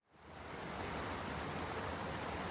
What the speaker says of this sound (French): Le clapotis de l'eau nous introduit dans la deuxième partie du circuit.